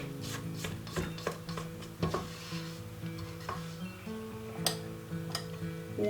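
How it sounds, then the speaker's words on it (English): A rubber spatula is worked around a mixing bowl of thick orange cranberry quick bread batter, making repeated close scrapes and soft clacks against the bowl in an uneven rhythm, alone with no talking. "take a rubber scraper, rubber spatula here, and just kind of go around the bowl to make sure we have all the ingredients mixed in"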